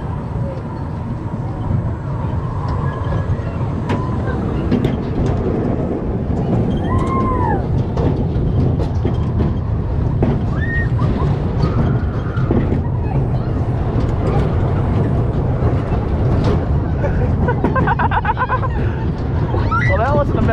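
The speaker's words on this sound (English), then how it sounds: "For the most part, I'm just wanting the audio of the ride and stuff." A Tilt-a-Whirl amusement ride at Western Playland runs with a steady mechanical rumble and whir, while crowd chatter, distant shrieks and chirping sounds carry throughout.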